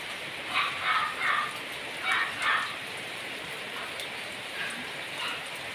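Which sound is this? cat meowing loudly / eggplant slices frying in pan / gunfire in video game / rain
rain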